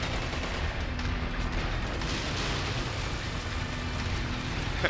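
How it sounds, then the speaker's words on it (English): A machine gun fires in the MechWarrior video game, raking infantry in a dense, unbroken roar of rapid rounds that holds loud and steady throughout with no talk. "I'm just tracing the lines between these infantry guys real quick with this machine gun"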